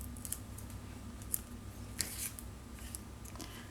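Scissors trim small papercraft pieces in a quiet room, with a few faint, sharp snips spread over a soft background hiss.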